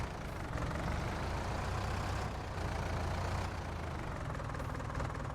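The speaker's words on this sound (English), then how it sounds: "All right, I gotta move a tractor." A tractor engine in the Farming Simulator 19 video game rumbles steadily, low and heavy, with a constant knocking drone and no breaks. No voices are heard.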